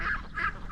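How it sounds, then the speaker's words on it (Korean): White geese or ducks beside a rural road in Vietnam give two loud, nasal honks in quick succession, close by. "도로 옆에 이렇게 오리가 있어. 거위인가?"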